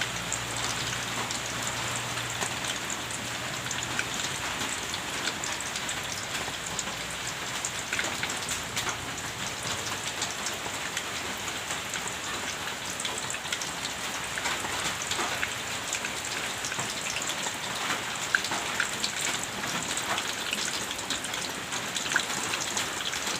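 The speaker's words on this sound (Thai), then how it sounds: "ตอนนี้ฝนกำลังตกเลยค่ะ" Steady rain pattering on surfaces, continuous and even throughout, with scattered drops audible and no voices.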